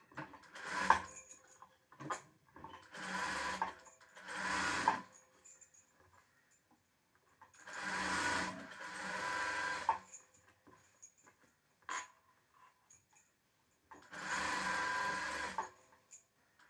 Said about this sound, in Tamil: தையல் அடிக்கும் பொழுது ஒரே அளவாக அடிக்கணும்.